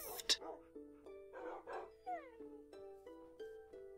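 Dogs in the video game Minecraft, a series of short, soft, tonal barks and whines repeated at an uneven pace over a quiet background, fairly faint.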